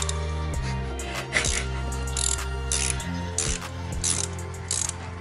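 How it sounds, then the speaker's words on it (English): Ratchet clicking as it turns out a spark plug on a 5.7 Hemi Dodge Challenger, a series of close, sharp pawl clicks in uneven bursts with short pauses between strokes. "grab your ratchet"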